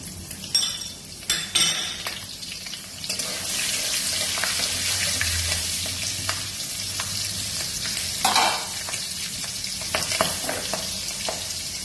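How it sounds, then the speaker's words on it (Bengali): Black cumin and green chillies hitting hot oil for a Bengali ilish head and pui shak dish, a loud sustained hiss with crackles and spatula scrapes, close and continuous. "তেলের মধ্যে দিয়ে দিলাম কালো জিরে আর কাঁচা লঙ্কা"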